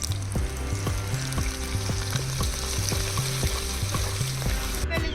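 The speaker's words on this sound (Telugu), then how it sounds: "వెల్లుల్లి పేస్ట్ కూడా ఫ్రై అయిపోయింది" Ginger garlic paste fries in a hot pan with a loud, close, continuous sizzle, while steady rhythmic scrapes of a spoon stirring against the pan repeat throughout.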